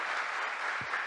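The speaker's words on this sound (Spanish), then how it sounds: "Daré un aplauso al Señor." Brief burst of congregation applause in church, steady dense clapping heard alone for about a second.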